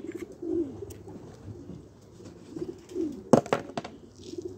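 Domestic pigeons coo in soft, repeated low throaty phrases close by, with a few sharper knocks and rustles partway through and no talking.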